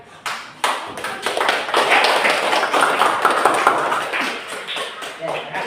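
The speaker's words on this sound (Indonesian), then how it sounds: "Kita berikan aplaus untuk semua kelompok yang sudah melakukan percobaan dan presentasi dengan baik" Classroom applause for student groups after their experiments and presentations: steady, dense hand clapping from many people that lasts several seconds, with a few louder claps at the start and a gradual fade at the end.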